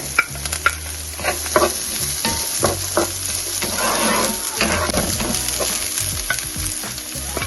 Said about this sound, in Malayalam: ചെറിയുള്ളിയും സവോളയും കൂടെ ഇട്ട് വഴറ്റി കൊടുക്കാം